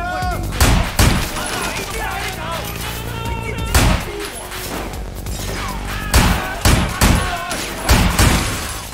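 Gunfire in the video game Sleeping Dogs: loud, sharp shots in irregular bursts and single cracks, some rapid volleys, with no speech over them.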